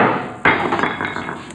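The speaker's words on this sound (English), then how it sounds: "the weight that I had just fell." A weight falls in a woodworking shop where a longboard is being glued and pressed, a single loud, sharp, close impact that rings briefly and fades.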